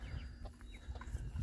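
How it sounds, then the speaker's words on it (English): Laying hens in a backyard flock cluck and murmur outdoors, a busy low chatter of several birds with occasional sharper calls over steady background noise. "I just let all the laying hens out."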